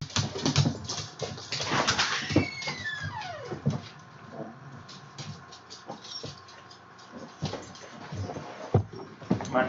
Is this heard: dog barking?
yes